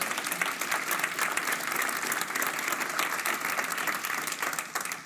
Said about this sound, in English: Yeah, give him a clap.